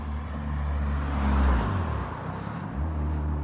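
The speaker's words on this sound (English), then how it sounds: "A few cars out and about." A few cars pass along a road near a river on a dry evening, one vehicle swelling to a close rumble midway and fading, then another approaching, heard alone without talking.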